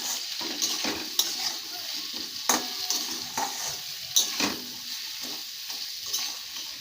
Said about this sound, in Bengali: এবার দেব হলুদ দিয়ে এটাকে একটু নাড়াচাড়া করব।